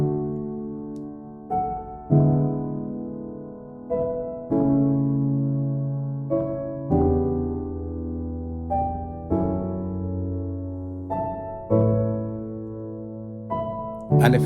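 Chord progression built in Scaler 2.9, played as a sequence of struck, slowly decaying chords about every one to two seconds, clear and close with no talking.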